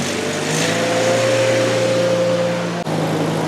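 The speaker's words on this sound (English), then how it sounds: "It sounds like it's idle and low." A Miller Bobcat generator welder engine idles low and steady, a continuous even drone with a constant hum and no change in pitch, close and alone, with a brief dip near the end.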